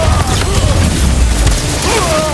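A grenade blast in the video game Spider-Man 2, a loud continuous booming rumble with crashing debris through the whole moment, with a voice faintly mixed in.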